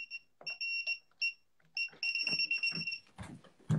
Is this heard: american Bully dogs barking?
no